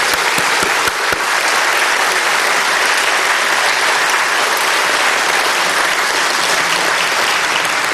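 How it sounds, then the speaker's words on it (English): An audience at a Tennessee Aviation Hall of Fame banquet in a museum applauds a special VIP guest, a loud, dense, sustained ovation that stays even from start to finish. "Ladies and gentlemen, a round of applause for our special VIP."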